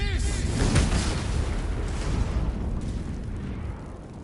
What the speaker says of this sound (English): how big of an explosion that is.